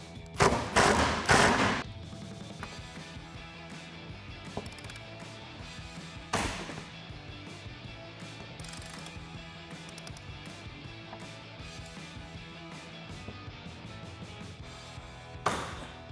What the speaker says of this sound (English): using a T50 torque socket, I'm going to go ahead and remove those 2 bolts on either of the hinge